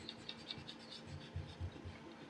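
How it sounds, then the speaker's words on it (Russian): Ordinary rubber eraser rubbing pencil layout marks off a steel channel during a workshop build, giving soft, irregular scratchy strokes with a few brief low thumps, fairly quiet and with no talking. "Следы карандаша удаляю обыкновенной резинкой."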